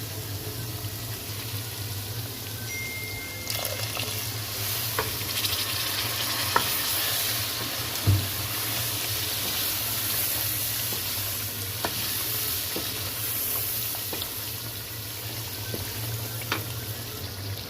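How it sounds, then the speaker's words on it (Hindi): Ground spices sizzle and fry in a pan with a splash of water for chicken nihari, a steady close hiss with occasional stirring clinks and scrapes throughout. "अब थोड़ा सा इसमें पानी ऐड करके इसको मैं फ्राई कर लूँगी।"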